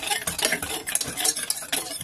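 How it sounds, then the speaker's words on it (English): A whisk beats sugar and custard powder with plant milk in a bowl, making rapid, close, rhythmic metallic scraping and clinking strokes that continue without pause. "just mix them together like that with my old friend, the whisk."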